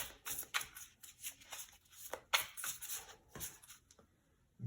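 Quiet, rapid riffling bursts of tarot cards being shuffled, several quick flurries in succession, close and crisp with short pauses between.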